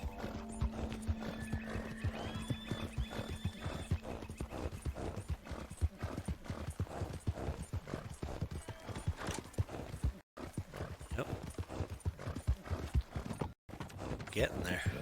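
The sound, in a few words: horse hooves clip-clopping while riding, from a video game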